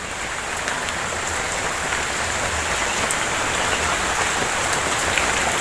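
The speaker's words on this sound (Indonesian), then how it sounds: "Ini posisinya lagi hujan." Steady rain falls outdoors near a quail coop, a dense, even hiss of drops on surfaces that holds constant throughout with no voices.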